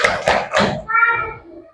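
Schoolchildren in an Indonesian classroom do a short clap routine, a few quick bursts of hand claps mixed with young voices, then chanting voices alone as the claps stop.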